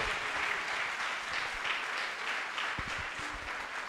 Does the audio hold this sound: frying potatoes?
no